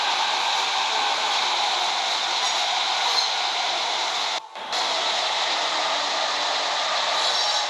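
A Class 456 train pulls into a station in the Project Transit video game, a steady rushing rail drone with a faint high whine, briefly cut by a short dip before resuming.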